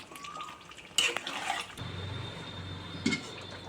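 Water is poured into a pan of cooking Bengali-style chicken curry, a brief splash and clatter of the pot followed by a low sizzle and bubbling close by.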